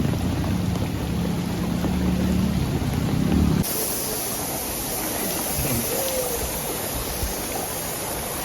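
Floodwater after heavy rain rushes through a coastal fishing village, a steady loud roar of flowing water that briefly carries a low rumble and then continues as broad, unbroken noise.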